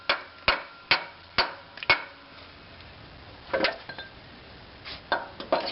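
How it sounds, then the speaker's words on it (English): A hammer strikes a chisel on the exhaust manifold of a 5.4L Ford F150, giving sharp metallic blows, a quick run of five evenly spaced hits, a pause, then several more irregular strikes, close and loud with no talking. "let's try a little chisel action maybe"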